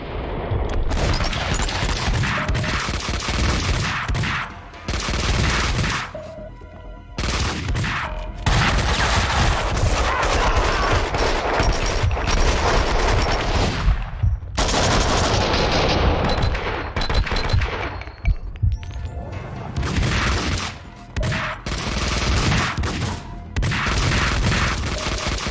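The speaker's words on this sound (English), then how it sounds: "You can be mid-air, firing with your both pistols akimbo, and popping those pills." Rapid twin-pistol gunfire from Max Payne 2 during slow-motion bullet time, loud and continuous bursts with brief gaps, dense overlapping shots and echoing impacts filling the mix without any voices.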